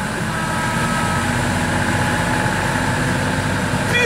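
A loud, steady low engine rumble from an off-road 4x4 truck working through deep mud, running continuously and close by with no voices.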